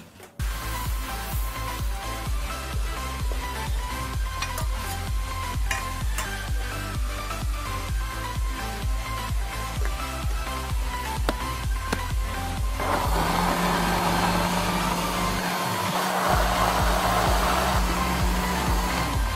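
A blender purees sweet corn soup, a steady whirring roar rising in the last several seconds over continuous background music.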